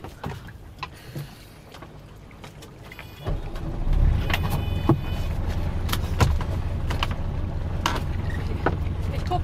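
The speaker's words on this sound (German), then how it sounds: "Starte mal bitte die Maschine." A moored boat's marine engine is started and settles into a steady low running rumble, with a step up in level partway through, alongside water and wind noise and scattered knocks nearby.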